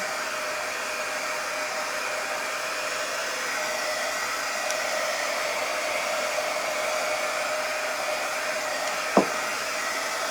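Hair dryer blowing on an upcycled thrift store find, a constant close whooshing hum with no break, and a single brief click near the end.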